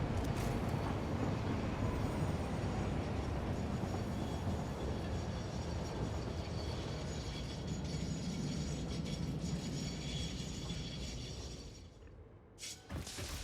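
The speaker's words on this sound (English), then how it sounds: "So that train does not look like it's dropping anything off." A train in the Satisfactory factory-building game rolls past with a loud, continuous clattering rumble and mechanical rattling that holds steady, then drops away sharply near the end.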